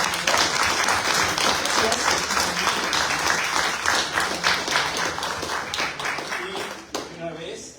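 Audience at an academic seminar applauding, a loud dense patter of many hands clapping that continues steadily, thinning into scattered claps before stopping near the end.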